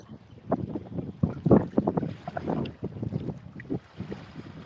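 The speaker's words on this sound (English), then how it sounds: "I got a kind of a crosswind going through here." Gusty crosswind sweeping over a river at a winter fishing spot, buffeting the microphone in uneven rumbling bursts that rise and fall without pause.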